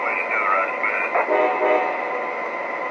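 An EZ-Catch toy train's electronic horn sounds its forward signal, a bright, tinny tone from a small speaker held close, lasting a couple of seconds before fading.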